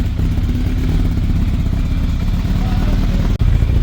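A motorcycle engine idles loud and close while warming up, a rough, steady chugging rumble that dips for an instant near the end.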